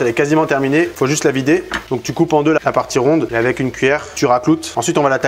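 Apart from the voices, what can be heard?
No distinct noise like a dog, phone or traffic.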